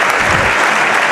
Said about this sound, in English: applauding the Thalman's boy.